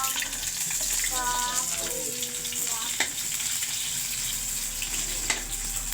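Onions sauté in a pan with a steady, close sizzle and hiss, a few clinks of a utensil against the pan, while a person speaks briefly over the cooking.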